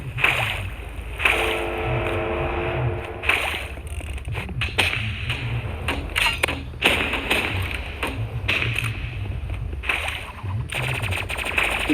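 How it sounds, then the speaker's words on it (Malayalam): Grenade launcher shots in a 1v1 video game match land as repeated heavy thumps spread across the stretch, over a continuous game soundscape with no talking. "ഗ്രനേഡ് ലോഞ്ചറാ."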